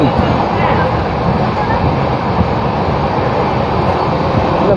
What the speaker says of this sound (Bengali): এই সবাই ট্রেন যাত্রা করছি, কি আরাম লাগে।